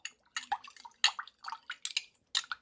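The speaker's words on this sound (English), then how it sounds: "going to add the vegetable broth" Vegetable broth goes into a pan with onions in short, irregular bursts of splashing and bubbling liquid, heard up close.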